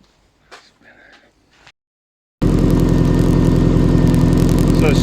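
Subaru EJ25 engine in a sandrail starts up after a quiet stretch with faint talk, then settles into a loud, steady, rumbling run close by.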